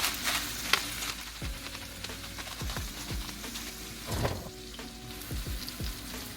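Half-cooked shrimp frying in a pan with pepper, a steady low sizzle running throughout with intermittent utensil clinks and stirring scrapes, no talk.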